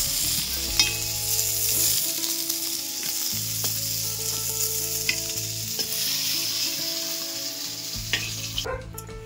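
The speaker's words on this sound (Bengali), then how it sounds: "মাছগুলো আবার ভাজা হয়ে গেছে লাল লাল করে" Pieces of katla fish fry in hot oil until reddish, giving a loud, constant close sizzle with occasional spatula scrapes and stirring clatter.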